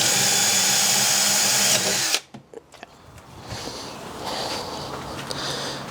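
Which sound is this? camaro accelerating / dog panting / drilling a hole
drilling a hole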